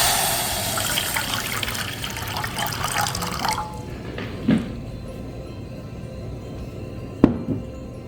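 Water is poured into a cooking pot for boiling tapioca pearls for Taiwanese boba milk tea: a steady splashing rush for a few seconds, then quieter kitchen background punctuated by a couple of sharp clinks.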